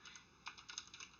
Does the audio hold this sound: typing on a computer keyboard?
yes